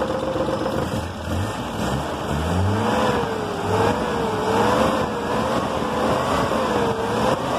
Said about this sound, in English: And now again accelerate your car's engine.